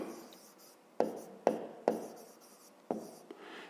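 A pen or chalk writes out a math expression in a few sharp, distinct strokes with short pauses between them, close and fairly clear against quiet room tone.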